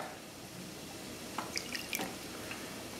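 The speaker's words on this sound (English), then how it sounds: "you can also add a little bit of water" A little water poured into a quinoa and black bean burger mix with egg, garlic and chilies, giving a few soft, quiet drips and splashes in the middle of an otherwise hushed kitchen.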